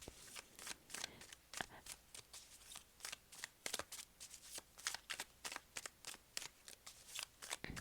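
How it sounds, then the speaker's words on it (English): Playing cards are shuffled repeatedly in quick riffling bursts, each a crisp flutter followed by a short pause, close and fairly quiet. "this way you can see them getting shuffled"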